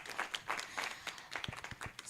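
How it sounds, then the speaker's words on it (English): Applause from an audience at a talk on healing from trauma, with scattered individual claps popping out of a steady patter, fairly close and continuous throughout. "can we give them a round of applause?"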